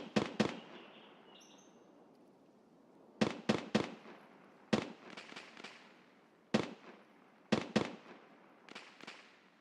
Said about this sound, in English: They're shooting at the vehicle.